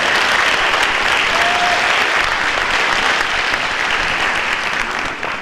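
A hall of fame ceremony audience applauds steadily for an inductee, a dense, sustained wash of many hands clapping at close range that holds at full strength, then eases slightly at the very end.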